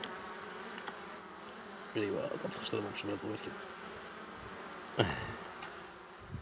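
Honeybees buzz in a close, steady drone around an opened log hive during a honey check while a person speaks briefly, with a sharp buzzing swell passing near the end.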